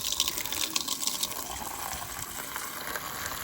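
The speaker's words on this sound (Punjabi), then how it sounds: "ਇੱਧਰ ਵੀ ਪਾ ਦਈਏ ਕਬੂਤਰਾਂ ਨੂੰ ਪਾਣੀ" Water gushes and splashes as it is poured out for pigeons on a hot day, a steady close stream with a spattering edge that runs without pause.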